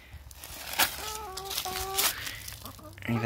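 Hens cluck and squawk in short bursts nearby, calling for feed, with rustling and crinkling sounds mixed in and a low background rumble, during autumn pea sowing in a garden.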